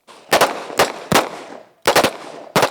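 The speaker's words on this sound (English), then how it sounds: "Give me 2 shots, center mass." Five sharp handgun shots fired at a target during tactical pistol training, delivered in quick bursts of two and one with brief reverberant tails, loud and close with no talk over them.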